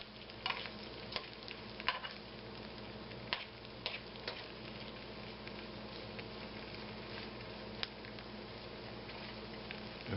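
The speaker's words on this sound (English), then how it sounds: "just break it up and stir it around and incorporate all the vegetables into it" Steady sizzling of vegetables in a pan with soft scraping and occasional clicks of a utensil stirring, constant and fairly quiet throughout.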